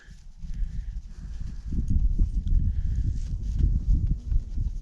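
A ridden horse walks forward on cue, its hooves giving a continuous, fairly close clip-clop with soft scuffing, and no talk over it.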